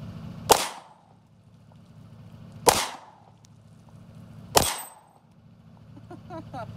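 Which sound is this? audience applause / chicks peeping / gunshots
gunshots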